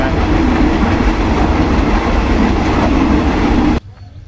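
A train rumbles across the River Kwai Bridge toward Nam Tok Station in Kanchanaburi, Thailand, with a steady, loud clatter of wheels, then the noise cuts off abruptly near the end.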